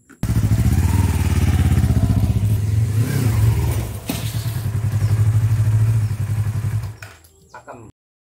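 A motorcycle engine idles loud and close with a throbbing, slightly clattery beat during a test run, dipping briefly midway before cutting off near the end.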